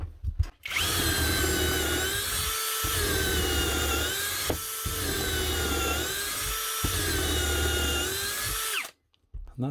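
A Psogpone cordless drill, a copy of a Makita, whirs continuously at high speed with a loud, steady whine that dips slightly in pitch at times before it winds down.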